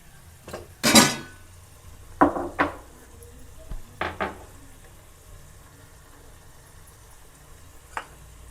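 Homemade ghee being made from butter simmering in a pan over a medium flame, a soft bubbling sizzle punctuated by several sharp clinks of a spoon or ladle against the pan.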